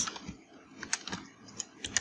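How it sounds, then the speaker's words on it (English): Computer keyboard keys are pressed while working in an Excel spreadsheet, a handful of light, close clicks spaced irregularly over a quiet background with no talk. "hit the delete key on the keyboard"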